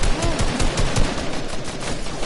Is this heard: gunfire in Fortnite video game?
yes